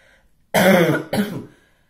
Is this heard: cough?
yes